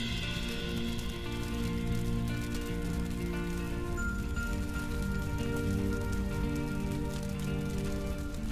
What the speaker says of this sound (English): when will the rain stop?